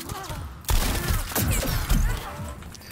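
Shotgun blasts in The First Descendant, a handful of loud booming shots spaced irregularly over game background noise, with a brief voice near the start.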